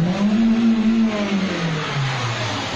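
A Suzuki Cultus with an M13 engine revving as the accelerator is pressed, a loud close engine note rising and then sagging as the throttle eases, with no talk over it.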